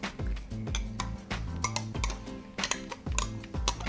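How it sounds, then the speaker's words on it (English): Cake batter is mixed in a bowl, giving a quick, uneven series of clinks and scrapes of utensil against the bowl, close and fairly quiet, with no voices. "And then you just mix that all in."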